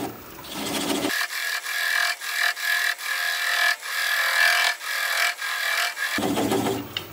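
Rhododendron root bowl spinning on a wood lathe at slow speed while a gouge cuts, a rough scraping rasp with pulsing interruptions, close and fairly loud, steady hum continuing beneath.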